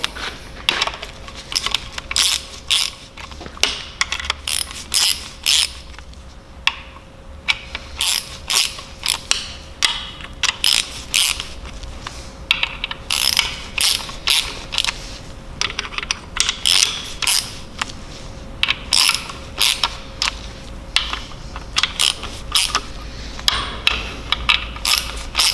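Rapid ratchet clicking comes in repeated bursts as a BMW S54 VANOS unit is drawn into place bit by bit, close and sharp over a faint steady hum, with no talking.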